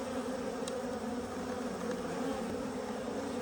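Honeybees buzz in a continuous, faint drone at an opened hive during beekeeping, with no talking.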